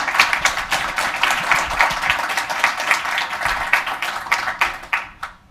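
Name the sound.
audience applause for speaker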